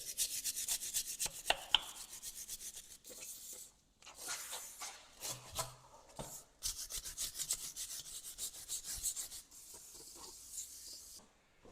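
A brush scrubs a cover on a John Deere tractor, with bursts of dry, rough rubbing strokes broken by short pauses and a few knocks, fairly close.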